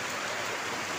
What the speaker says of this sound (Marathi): भयंकर पाऊस पडतोय